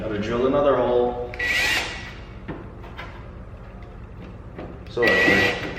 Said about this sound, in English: Gotta drill another hole.